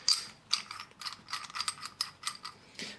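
Radiator valve coupler fitting, a 1/2 inch BSP part, being unscrewed, with a series of quick ratcheting metallic clicks and light rattles, close and fairly quiet.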